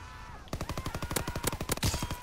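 Rapid automatic fire from an LMG-style weapon in Call of Duty WW2, a fast, even string of sharp shots that starts suddenly and runs steadily for nearly two seconds, loud and close.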